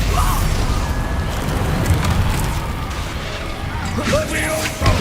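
A Stupefy spell striking its target in Hogwarts Legacy, set within a loud, rumbling battle of booms and crashes, with a sharper impact and swishing burst near the end.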